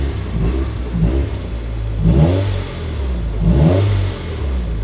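A warmed-up Nissan S15 Silvia engine revs three times in short, even bursts, close and loud, each climbing and falling back to idle between blips.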